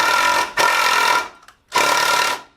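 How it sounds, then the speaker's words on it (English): A Ridgid power driver sinking a screw into wood while building a garage kayak rack, heard as two loud, close bursts of motor whir separated by a brief pause. "I'm going to use a driver. I have a rigid driver."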